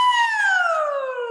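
A human voice imitates a siren as a singing warm-up, a single smooth pure tone gliding slowly downward in pitch over about a second and a half, close and alone.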